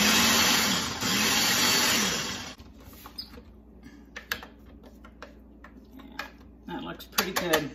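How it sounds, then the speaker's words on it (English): An electric food grinder whirs loudly for a couple of seconds as it grinds roast beef and homemade pickles for a sandwich spread, then cuts off, followed by quieter clattering and handling sounds and a brief burst of motor toward the end. "Gonna grind it a little more so the pickles aren't so chunky."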